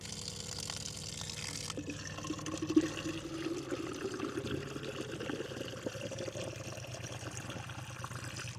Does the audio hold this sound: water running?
yes